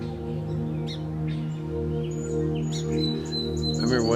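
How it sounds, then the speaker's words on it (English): Birds chirping and singing in the morning, with bright scattered calls and trills over a steady low hum. "I think that's one of my favorite things, is the birds."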